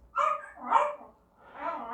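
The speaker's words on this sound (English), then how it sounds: "this dog barking" A dog barks twice in quick succession, fairly close, followed by a softer third yelp, with no talk over it.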